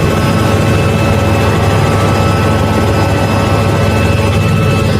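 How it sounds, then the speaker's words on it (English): A helicopter flies slowly in a video game, a loud, steady low engine and rotor drone with a constant whine, continuous and unchanging with no talk over it. "This got to be the slowest helicopter I've ever seen in the world."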